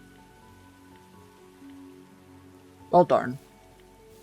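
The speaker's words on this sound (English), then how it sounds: "So everyone can hear the rain a little better." Steady rain falls in the Minecraft video game as a soft, even background hiss, with a man's short spoken remark breaking in near the end.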